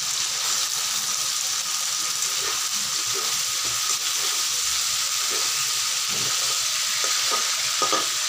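Chicken pieces fry in hot oil, giving a steady, loud, dense sizzle that runs unbroken throughout, with occasional soft stirring scrapes beneath it.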